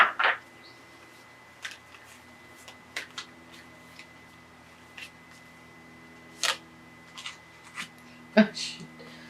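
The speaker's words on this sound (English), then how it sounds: "I shuffle these cards." Tarot cards being shuffled by hand, heard as sparse, soft riffles and taps spread across a quiet room with low background hum, no voice over them.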